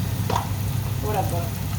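Ginger garlic paste sizzles and fries in a pan while being cooked with cow meat, a steady close crackle with light stirring scrapes throughout.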